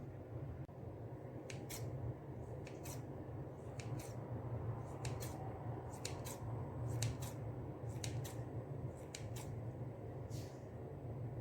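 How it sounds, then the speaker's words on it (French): Kitchen scissors snipping risen cheese-filled brioche dough, a series of crisp paired snips at an irregular pace over a constant low hum, close and fairly quiet. "C'était pour pouvoir les piquer avec notre ciseau."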